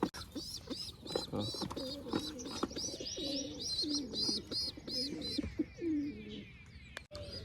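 Several pigeons kept for sale coo in a continuous overlapping chorus close by, with higher bird chirps layered above the low throaty calls and a sharp knock near the end.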